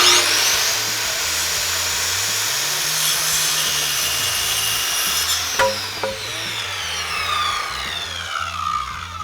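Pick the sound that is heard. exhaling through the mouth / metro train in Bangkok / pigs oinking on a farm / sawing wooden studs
sawing wooden studs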